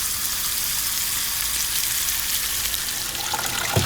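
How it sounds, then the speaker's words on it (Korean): Steady, broadband sizzling of New York strip steak frying in a hot pan, loud and continuous, with a faint clink near the end. "뉴욕 스테이크를 후라이팬에 올린다."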